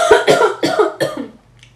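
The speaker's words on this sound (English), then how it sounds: "sorry, I make coughs." A series of four close, loud coughs in quick succession from a man during a wrestling aftershow, followed by a brief quiet tail.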